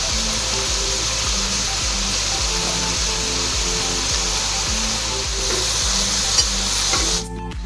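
Mixed vegetables with salt sizzle and fry hard in a wok, a loud steady hiss with rhythmic scraping of a spatula stirring, cutting out sharply near the end.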